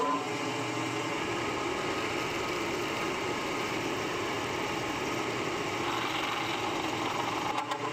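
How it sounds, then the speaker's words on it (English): A lathe drilling a hole through a locomotive rod bearing, giving off a steady, dense mechanical whir with grinding and cutting noise that stays even throughout. "So what I'm doing here is I'm going to put a drill through."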